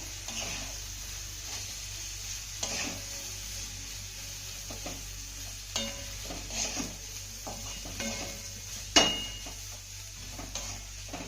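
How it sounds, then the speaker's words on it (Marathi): Steamed ragi vermicelli being sautéed with vegetables in a pan, a quiet low sizzle under scattered scraping and tapping of a spoon against the pan, close but soft, with no voices. "आता ही घातलेली शेवई आपल्याला भाज्यांमध्ये दोन ते तीन मिनिटं चांगली परतून घ्यायची आहे"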